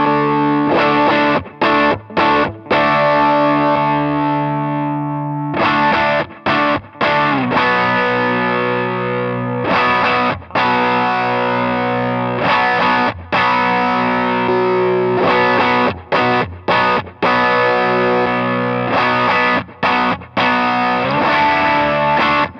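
An electric guitar through a Walrus Audio Voyager MKII overdrive pedal plays chords and riffs, thick and gritty, with short pauses between phrases, loud and close.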